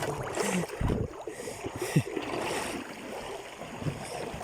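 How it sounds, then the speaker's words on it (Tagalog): A strong river current rushes past with a steady, dense wash of flowing water that fills the whole stretch, and a few faint knocks and splashes sit low beneath it. "Lakas talaga ng agos."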